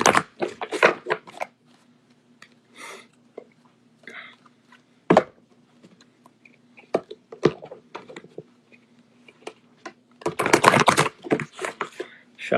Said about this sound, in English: Shuffling out those cards